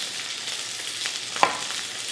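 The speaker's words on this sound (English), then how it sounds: "Oh, chicken's splashing a little bit." Chicken pieces frying in a pan for an almond chicken dish, a steady soft sizzle with one brief sharper splash or pop near the end.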